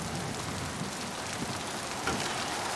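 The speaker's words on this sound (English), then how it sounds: "I do love that it's raining." Steady rain falls on the planet Pragia in the video game Mass Effect 2, a dense, even hiss that never lets up, with one slightly louder patter near the end.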